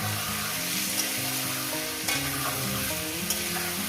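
Meat for a curry fries in a pan with a loud, continuous sizzle, brief scrapes of stirring cutting in now and then, and no talking.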